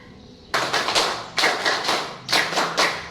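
A group of people in a classroom claps a rhythmic concentration clap, sharp unison bursts in three clusters of quick claps with brief pauses between, close and loud, no talking.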